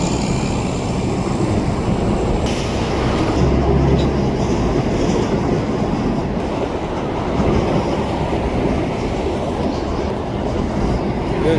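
A train moves through a rail yard with a steady, loud rumble and rolling noise and occasional clicks of the wheels on the track, heard continuously and fairly close.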